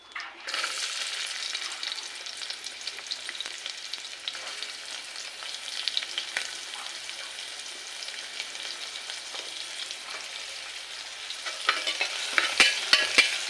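Onions sizzling steadily in a pan, a continuous crackling fry with occasional stirring scrapes growing louder near the end, with no talking.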